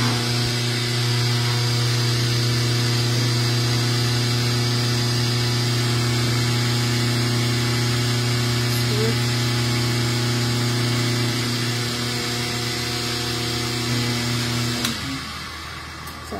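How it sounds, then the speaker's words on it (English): A press steadily forming sheet metal down into a Death's Head Moth impression die, giving a loud, sustained mechanical hum with a steady drone for about fifteen seconds that drops away abruptly near the end. "I am just barely pressing down on it just so that the metal starts to form down into the die."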